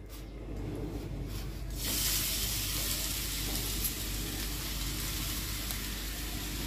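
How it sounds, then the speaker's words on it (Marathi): Jaggery and grated coconut are stirred and sautéed together in a pan for a traditional seven-layer ghavna, a faint, steady sizzling hiss that rises slightly after a couple of seconds and carries on without talk. "आता मी हा गूळ आणि खोबरे एकत्र करून घेते आणि ते त्याच्यात टाकते आणि ते जसं हे विरघळेपर्यंत गूळ चांगलं परतून घेते"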